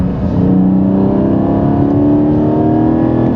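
Porsche 718 Cayman GT4 engine cruising in third gear around 60 mph under 4,000 RPM, a loud, steady, close-up drone with a smooth humming tone and slight rising pitch, alone without talk.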